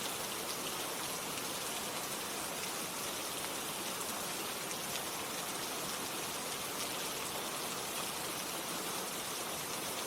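Steady rain falls without a break, a dense, even hiss of drops pattering on surfaces, close and continuous with no voices.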